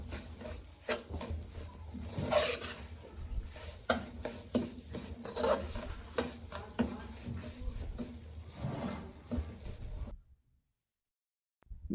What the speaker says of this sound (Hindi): आपने चम्मच मुसलसल चलाते रहना है।